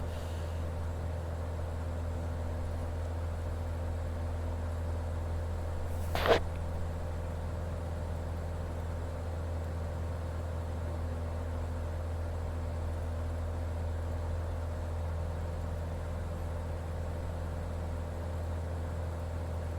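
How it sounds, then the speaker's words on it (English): A Beechcraft Sierra (BE24) idles in Microsoft Flight Simulator 2020 with a steady, low, even droning hum that holds for the whole stretch. A single brief click breaks in partway through. "Can't hear you over the engine outside"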